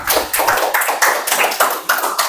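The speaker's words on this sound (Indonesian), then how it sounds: "tepuk tangan buat Rafa." A classroom of students claps for a classmate in a short burst of quick, uneven applause.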